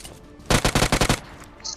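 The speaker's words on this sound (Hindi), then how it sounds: "मेरे को उधर से फायरिंग की साउंड आती है" Automatic gunfire in the mobile battle royale game BGMI: a rapid burst of about six or seven loud shots over roughly half a second, followed by quieter game ambience and a faint high electronic tone.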